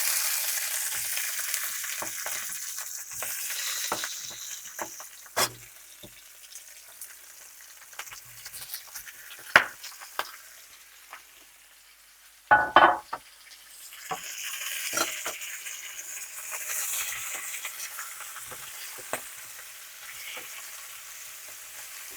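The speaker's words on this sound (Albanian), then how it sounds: "Në vajin e sallamit hedh specat." Peppers sizzle and fry in sausage oil in a pan, a steady close hiss broken by a few sharp pops and clatters of stirring, with no talking over it.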